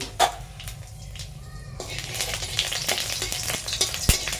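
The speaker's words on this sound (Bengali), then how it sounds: "তেল হয়ে গেছে বন্ধুরা আমরা ফোড়নটা দিয়ে দিলাম" Whole spices hit hot mustard oil for a Bengali tomato chutney, bursting into a loud, close sizzle after a quieter start, with stirring taps and occasional sharp pops running through the crackle.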